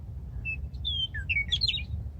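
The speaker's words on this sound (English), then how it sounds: "Some bird over there." Outdoors, a bird gives a string of short, high chirps and tweets at moderate distance over a steady low background rumble.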